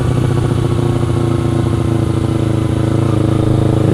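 A motorcycle engine drones loudly and steadily up close, holding a continuous rumble with no clear pass-by swell.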